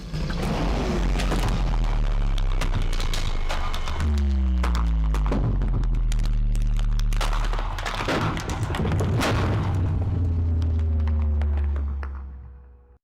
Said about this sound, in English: the Ender Dragon's death